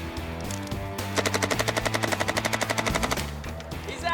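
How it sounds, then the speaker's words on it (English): A gun fires one continuous burst of about twenty rapid, evenly spaced shots, loud and close, with steady music playing underneath. "But will that get them a cinematic span of continuous fire?"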